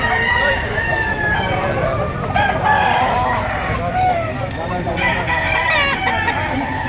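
A seven-month-old stag rooster crows repeatedly at a rainy outdoor livestock market in Lipa, Batangas, loud and close, with clucking fowl and people talking in the background.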